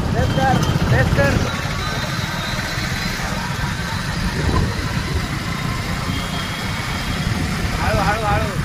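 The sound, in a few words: car engine being revved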